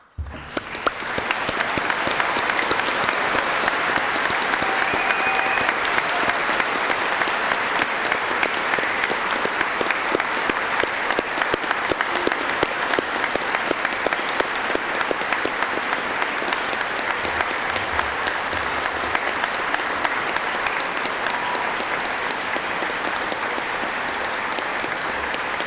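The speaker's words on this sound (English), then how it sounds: "invite all of our guests to join with me in one final round of applause for those who graduated today" Sustained audience applause for graduates at a university graduation ceremony, dense and steady for the full length, with a faint crowd murmur beneath.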